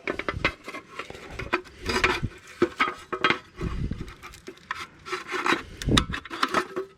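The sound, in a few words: pulling a plastic mat off a motorhome step bracket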